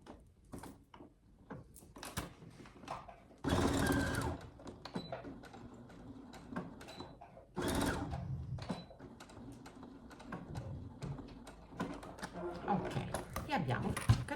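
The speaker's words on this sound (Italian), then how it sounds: "Qui adesso io andrò a cucire vicino al bordo varie volte" A sewing machine stitches close to the edge of fabric for a small carrot-shaped cloth book, with quick mechanical clatter in short runs and two louder bursts, while someone speaks over it.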